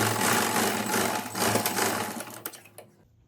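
A sewing machine runs continuously while stitching the side seam of a blouse, a loud mechanical whir that slows and stops just before the end.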